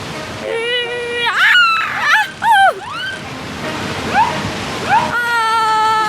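Cartoon waves slosh and splash around a small boat, a continuous watery wash under animated characters talking loudly over it.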